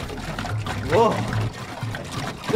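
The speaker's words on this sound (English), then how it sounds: "We're filling up the tank with water." Water pours and trickles into the tank of a toy truck, a steady splashing flow with a child's and an adult's voices chattering over it.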